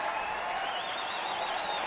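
A steady wash of crowd applause fills a baseball stadium during a Yankees at Cubs game, continuous and somewhat distant without distinct individual claps.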